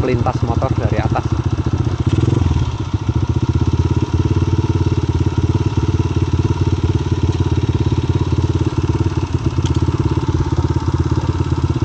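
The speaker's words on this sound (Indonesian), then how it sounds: "Lintas motor dari atas." A motorcycle engine chugs steadily at close range, its low rhythmic putter holding throughout with a brief surge early on as it rides by.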